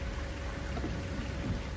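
Heavy rain pours during a spring thunderstorm that floods city streets: a dense, steady hiss of rainfall, constant and close, with no clear thunder clap and no voices.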